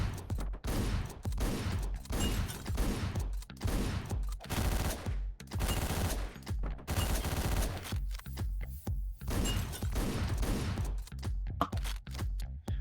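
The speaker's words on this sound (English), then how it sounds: "I just have to do this with the pump gun instead." Pump shotgun fire in the Hotline Miami video game comes as loud, rapid, repeated blasts in dense clusters throughout, with brief gaps between volleys.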